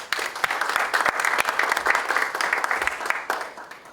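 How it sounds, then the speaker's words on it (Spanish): Audience applause welcoming a female doctor to the podium at a neuroscience and neuroeducation lecture: dense, steady clapping from a room of people, loud and sustained, tapering slightly at the end. "La recibimos con un fuerte aplauso, por favor."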